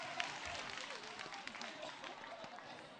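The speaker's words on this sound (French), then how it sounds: "Wow, vous pouvez vous applaudir" A studio audience at a Tabaski holiday TV show claps for itself in a faint, distant, continuous patter with crowd murmur underneath.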